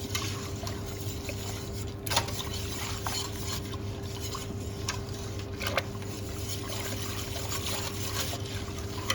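An egg and flavouring mixture is stirred in a bowl with a steady, soft swishing and liquid sloshing, under a constant low hum, with a few sharp clinks against the bowl.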